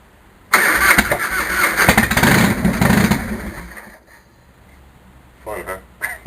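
Harley-Davidson Fatboy motorcycle cold-cranked with raw fuel and no idle, bursting into a loud close engine roar for a few seconds before dying away, then a brief sputter near the end, with speech heard over it.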